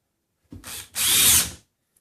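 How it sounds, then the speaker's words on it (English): Power drill driving screws into a wall mounting surface while patching a hole in drywall, plywood or paneling. A short, loud, close burst is followed by a longer whirring run, then silence. "And attach it with few screws"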